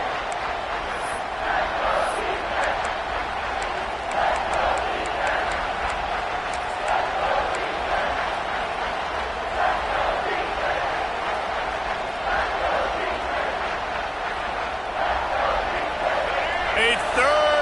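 Stadium crowd at a UCLA vs USC college football game roars steadily throughout, a dense, loud wall of voices and cheering with an announcer talking over it.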